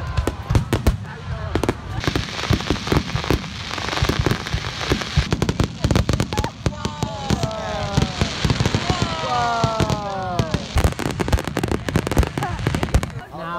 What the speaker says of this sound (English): their firework show is amazing